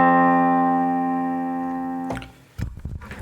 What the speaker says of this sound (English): This is the sound of the perfect fifth.